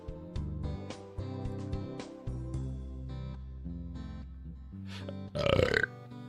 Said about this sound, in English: It's all the burping.